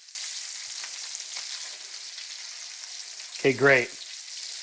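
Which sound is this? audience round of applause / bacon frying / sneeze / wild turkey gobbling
bacon frying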